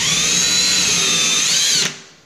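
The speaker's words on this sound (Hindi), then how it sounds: "उसके बाद होल कर लेते हैं ड्रिल से," An electric drill bores a hole into a wall for PVC trunking, whining loud and steady up close for nearly two seconds before cutting off and spinning down.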